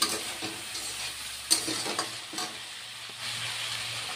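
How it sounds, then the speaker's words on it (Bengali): Spices and half a spoon of Kashmiri chili powder sauté in a hot pan, giving a steady close sizzle broken by several scraping stirs and knocks of the spoon, with no voices over it. "মশলা দিয়ে কষিয়ে নিলাম,"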